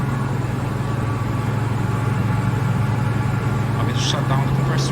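A KAESER screw compressor runs steadily at close range, a constant low hum with a broad mechanical hiss over it, holding even throughout, with a couple of brief higher hissy bursts near the end.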